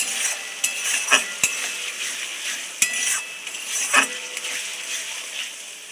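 Onion pieces being stirred into a chicken curry spice mix in a pan, with a light sizzle under scraping strokes and several sharp metallic clinks of a spoon against the pot.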